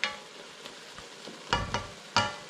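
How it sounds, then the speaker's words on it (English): Deer meat in wine in a pot on the stove coming up to a boil, heard as a low sizzle and bubbling with several clunks like stirring or the pot shifting, close and with no voices. "Now it's coming up to boil."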